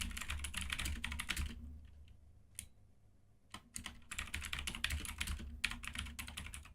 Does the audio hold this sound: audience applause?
no